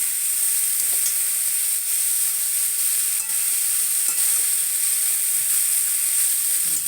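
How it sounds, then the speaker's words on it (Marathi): Chopped dill greens fry in a pan with turmeric, giving a constant loud hissing sizzle with a few faint stirring clicks. "आता ही भाजी चिरलेली आपल्याला ह्याच्यावर टाकायची या या भाजीला हलवून घेते वरती खाली करायची"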